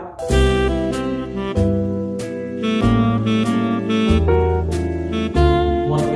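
A wind instrument plays a short melody of held notes, with a low accompanying line shifting underneath, loud and clear without speech.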